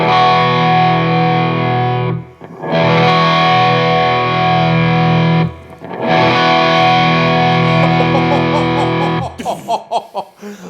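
Heavily distorted electric guitar through an Ibanez TS808 Tube Screamer overdrive pedal, chords ringing loud and sustained, played in three long bursts with brief gaps, ending in choppier picked notes.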